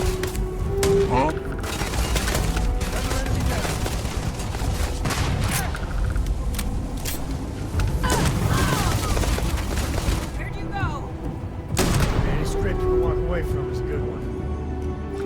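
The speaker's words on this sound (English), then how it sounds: "Sam, we're going in guns blazing." Gang gunfight in the Starfield video game: dense, continuous bursts of gunfire with booms, loud and close, mixed with people talking throughout.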